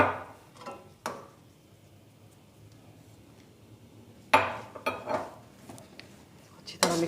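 Chana dal halwa mixed with ground cardamom in a pan, giving a few scattered metallic scrapes and clinks of a spoon against the pan, with quiet gaps between the stirs.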